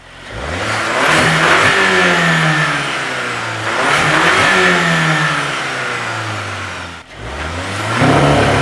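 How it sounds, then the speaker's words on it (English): A VW Mk8 GTI engine revs hard twice in quick bursts under launch control, rising and falling, then a sharp cutoff and another rev; loud, close, no voices. "give it some revs, give it a little launch control action"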